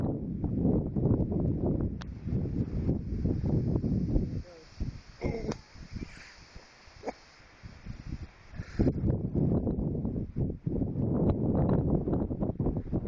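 Strong wind gusts buffet an outdoor microphone on a windy day while a toy flyer is out, a loud rumbling roar that drops briefly mid-way before surging back, with people talking intermittently.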